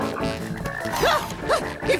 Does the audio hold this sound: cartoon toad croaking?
yes